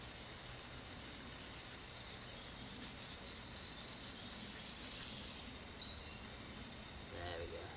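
A bushcraft knife is worked across a small pocket sharpening stone in a steady run of close, gritty scraping strokes with a faint hiss between them, continuing for several seconds.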